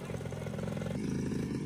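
A Yamaha Blaster ATV engine runs steadily at mid revs and then drops to a lower, rougher tone halfway through, heard from a moderate distance outdoors.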